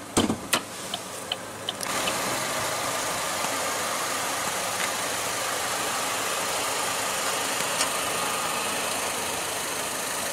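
A 2015 Chevrolet Sonic engine idles with a steady, even low hum heard up close with the hood open. A few sharp clicks come at the start, and no one talks.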